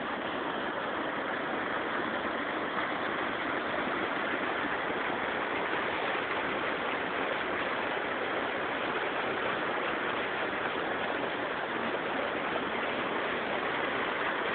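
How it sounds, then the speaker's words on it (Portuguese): Riacho do Saco, a creek at Serra Grande in Paraíba, Brazil, flows with a steady, even rush of water, a dense continuous hiss lasting throughout with no voices. "Isso é o Riacho do Saco, Serra Grande, Paraíba."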